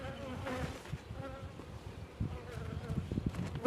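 Honeybees buzz steadily at close range during an inspection of a double beehive, a continuous droning hum with a few soft knocks and handling noises, and no talk over it.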